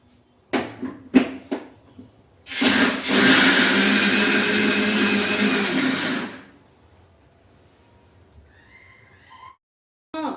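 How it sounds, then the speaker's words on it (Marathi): A mixer grinder whirs loudly for about four seconds, grinding soaked lentils into batter, after a few sharp clicks and knocks of the jar being set in place, then stops abruptly and falls quiet. "ते मिक्सरला लावून घेऊ"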